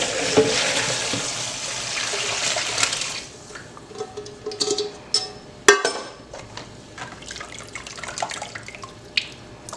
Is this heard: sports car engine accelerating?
no